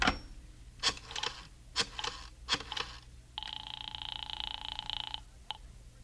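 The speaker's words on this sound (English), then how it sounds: "I went into the living room and picked up the phone" A telephone in an old radio drama is handled with a few knocks and clunks, then the receiver lifts and a steady dial tone hums for a couple of seconds before a final click; no voices.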